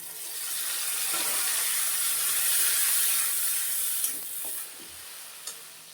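Onions frying in a pan with ginger, garlic, onion and green chilli paste just added, giving a loud, steady hiss of sizzling oil. A few soft stirring knocks come near the end.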